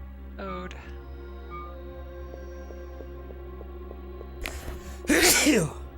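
A single loud sneeze bursts out near the end, preceded by a short vocal sound and quiet ambient hum with faint tones in the background.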